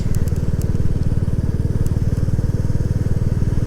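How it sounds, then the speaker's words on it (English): A Royal Enfield Classic 350 single-cylinder motorcycle burbles along at low speed, its exhaust note a steady, loud, evenly pulsing thump close by, with no talk over it. "It just makes you want to ride at 30 miles an hour just to listen to that exhaust note."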